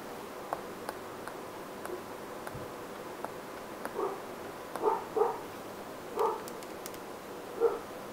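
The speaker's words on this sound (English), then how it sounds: "My dog's losing his mind." A dog barks faintly in the background, a handful of short, scattered yips and barks spread across the quiet room, with small clicks between them.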